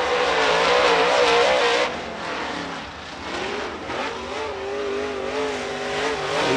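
A super late model race car rolls onto the track at North GA Speedway during qualifying, its engine droning loudly and close, then easing into a lower, wavering tone as the car pulls away.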